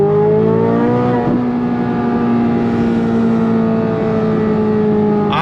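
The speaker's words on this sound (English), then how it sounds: "I'm gonna hear this engine note in my freaking dreams" A Chevrolet C8 Corvette Z06 engine revs loudly and steadily, its deep harmonic drone rising slightly in pitch, close and continuous throughout.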